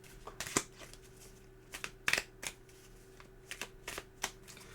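A deck of playing cards is shuffled by hand in quick riffles and soft flicks, scattered clicks and snaps close up at a quiet level, with no one speaking.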